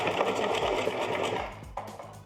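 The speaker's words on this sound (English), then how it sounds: "And then I'm going to do a reverse stitch." Sewing machine running a reverse stitch while sewing an upgraded pocket monkey, a steady close whirring buzz that slows and stops with a couple of soft clicks near the end.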